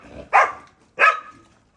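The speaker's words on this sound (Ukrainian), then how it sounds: "Не гавкай." A dog barks outdoors on a rural farmyard among pigs, two loud, sharp close barks spaced about half a second apart with quiet between them.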